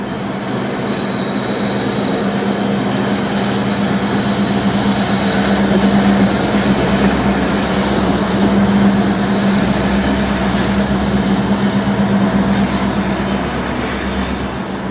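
A CSX oil train runs along the Trenton line near Philadelphia. It produces a continuous loud, close rumble of rolling tank cars, with rhythmic wheel clatter and faint squeals, and nobody speaks.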